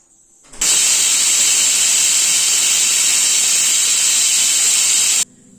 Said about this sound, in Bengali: এবার প্রেসার কুকারে ঢাকনাটা লাগিয়ে দিচ্ছি। গ্যাসের ফ্লেমটাকে বাড়িয়ে দিলাম, 2টো সিটি দিয়ে বন্ধ করে দেবো।